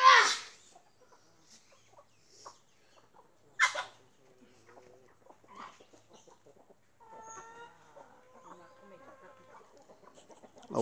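Chickens in a backyard coop cluck and squawk in scattered bursts, some loud and close and others softer, with rustling between calls.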